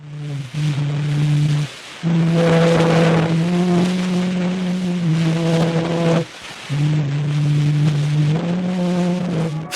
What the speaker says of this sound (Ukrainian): Тільки в 2008 році вдалося оцифрувати і прослухати один з таких записів